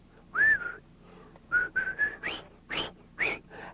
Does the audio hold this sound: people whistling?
yes